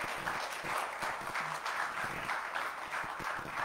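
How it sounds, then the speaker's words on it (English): A church congregation claps in praise during a live-streamed worship service, a dense, steady wash of many hands sustained throughout at even loudness. "Give him a hand clap of praise."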